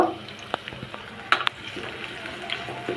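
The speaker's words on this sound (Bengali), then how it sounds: "তিন টেবিল চামচ পরিমাণ তেল দিয়ে দেবো পেঁয়াজ কুচি আর রসুন কুচি হালকা একটু ভেজে নিব" Faint sizzling of chopped onion and garlic frying in oil in a pan, with scattered crackles and a couple of sharp pops, quiet and close, with no talking.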